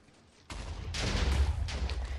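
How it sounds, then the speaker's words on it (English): Minecraft TNT detonates and blows up a wooden shack in a video game, a sudden loud blast followed by a rumbling burst of further explosions lasting nearly two seconds, with no talking. "Which then blows up the shack."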